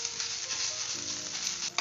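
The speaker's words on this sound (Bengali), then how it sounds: "এটাকে এবার ভালো করে মিশিয়ে নিই।" A spoon scrapes and stirs grated boiled potato into fried onion in a hot pan, with a soft, steady sizzle under the continuous stirring.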